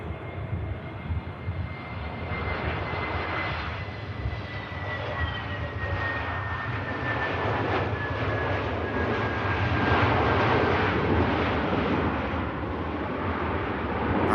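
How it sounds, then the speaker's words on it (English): EasyJet Airbus A321neo from Amsterdam landing, a sustained jet roar with a high whine sliding slowly downward, growing somewhat louder midway before easing off. "Is the EasyJet 321 Neo from Amsterdam. With this touchdown"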